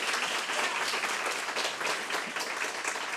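Dense applause with clapping and some cheering from an audience at a public event marking a city's mental health crisis response service, loud and steady throughout with no speech over it.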